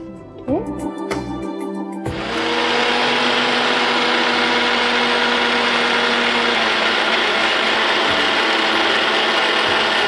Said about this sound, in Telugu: ఇది మిక్సీ పట్టేసుకుందాం.